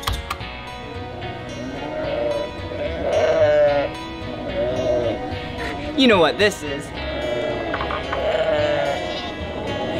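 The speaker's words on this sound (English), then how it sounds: "That was the sheep." A sheep bleats in several drawn-out, wavering cries at a children's museum, and a person talks between and over the calls.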